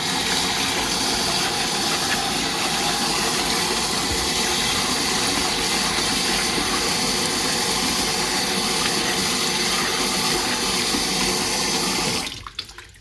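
Steady rush of water pouring over a white plastic lid while rinsing silver recovered from IC chips, a continuous broadband wash that runs alone for about twelve seconds before cutting off abruptly.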